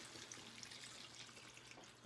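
Water pours steadily into a beef tajine as a soft, continuous trickle and splash lasting about two seconds, faint and close.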